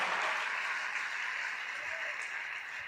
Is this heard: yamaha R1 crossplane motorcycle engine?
no